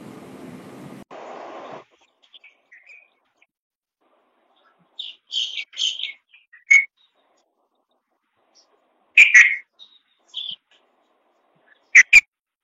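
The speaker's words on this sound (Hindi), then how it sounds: "दिस इज नाइटिंगेल, बुलबुल। अब इसकी आवाज सुनो," A nightingale (bulbul) sings in short bright bursts of chirps and whistles, separated by silences and heard alone after a brief low murmur at the start.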